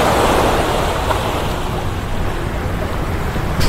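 Strong waves at high tide on Manila Bay surge and wash continuously, a loud, close roar of surf mixed with wind buffeting the microphone, with no voices.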